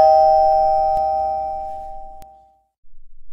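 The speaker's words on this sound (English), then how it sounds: "the doorbell at the front door just rang" A single electronic doorbell chime rings out clearly and fades away slowly, followed by a short stretch of quiet and some faint movement.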